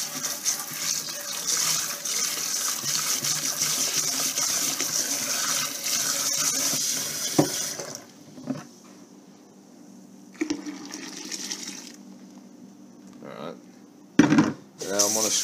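Raw hemp milk pours and splashes through a paint straining bag, a continuous watery rush for several seconds that gives way to quieter trickles, drips and a few sharp knocks.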